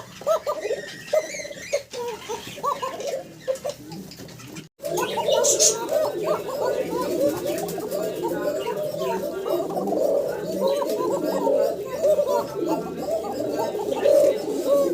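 Several pigeons coo in dense, overlapping calls, close and loud, keeping up almost without pause after a quieter start, with speech at times.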